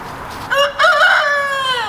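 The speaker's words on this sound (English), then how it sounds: "But Clifford has had to really get used to having a lot of roosters in the flock this year with Otto and Wally and Wilbur." A farm rooster in a flock with several other roosters crows once, loud and close, with a rising then sustained and falling call lasting over a second, no talk.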